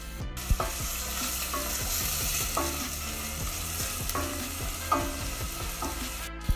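Soft sizzling of onion and garlic frying in olive oil in a pot, with a spoon scraping and stirring in short repeated strokes and a few light knocks.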